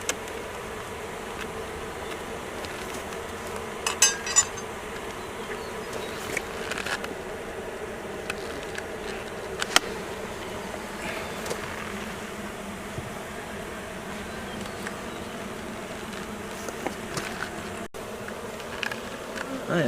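Honeybees swarm and hum around an opened hive during an inspection, a dense continuous buzz close by, with occasional louder passes of individual bees and light handling clicks.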